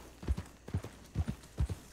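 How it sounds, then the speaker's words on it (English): Horse hooves clip-clop on the ground in the Red Dead Redemption 2 video game, four evenly spaced paired steps in a steady walking rhythm, faint and close with no talking. "This is my horse, Rain, if y'all haven't met her yet."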